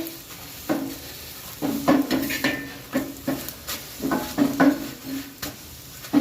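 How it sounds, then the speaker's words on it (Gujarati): Methi thepla roasting in oil on a griddle while being pressed down, with soft sizzling under repeated scraping and tapping strokes of a spatula, close and steady, no talking. "હવે આને પણ આપણે ચમચી તેલ નાખી દઈએ અને આ રીતના સરસ શેકી લઈએ દબાઈને"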